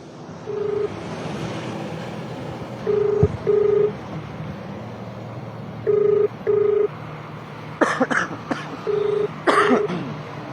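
A telephone number is dialed, short evenly pitched beeps sounding singly and in pairs over a faint background hiss, with a few sharper clicks and bumps near the end.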